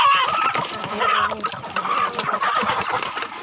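Chickens being fed rice cluck steadily in a close, busy flock, with overlapping calls and bursts of activity continuing throughout and no talk.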